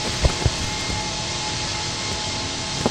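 Airbus A380 jet engines roar at full throttle in the Infinite Flight simulator game, a steady dense engine rumble with a few faint clicks, loud and continuous without talk.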